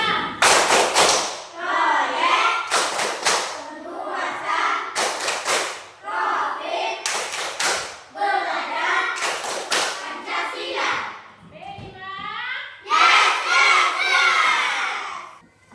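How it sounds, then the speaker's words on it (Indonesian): Schoolchildren in a classroom clap together in loud, rhythmic bursts of a patterned cheer, sharp clusters of claps alternating with shouted chanting voices, repeating several times. "Tepuk tangan untuk kita semua."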